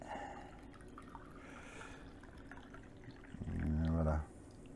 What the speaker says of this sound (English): 5 seconds more, and we're gonna pour this tea.